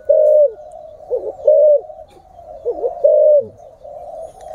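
Pigeons in a loft coo loudly and close by, deep rolling calls repeating roughly every second or so, with softer bubbling notes in between and no talking.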